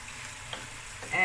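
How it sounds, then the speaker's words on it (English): Tomato paste cooking in a pot for a Cape Malay tomato bredie with bones, a low steady sizzle with a couple of soft stirring scrapes, quiet and close, no talk. "You just cook through the tomato paste."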